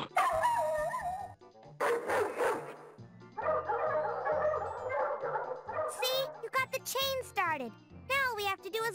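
Dogs bark and yip in the PS1 game 102 Dalmatians: Puppies to the Rescue, with short bursts of barks and whines mixed with cartoon character voices and game music.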